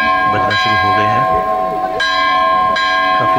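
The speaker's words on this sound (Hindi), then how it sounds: "3-3 के साइकिल में बजाते हैं, 1, 2, 3 ऐसे करके काफ़ी देर तक बजाते हैं।" Badrinath temple bells clang in cycles of three, each loud metallic strike leaving a sustained shimmering hum before the next comes in a regular, repeating pattern.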